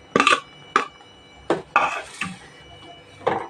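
A spoon scrapes and knocks against a pan while aval cake mixture is stirred, giving several loud, separate clanks and scrapes in irregular bursts, close by, with no talk.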